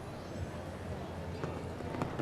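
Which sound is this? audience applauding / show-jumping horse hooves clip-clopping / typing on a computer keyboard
show-jumping horse hooves clip-clopping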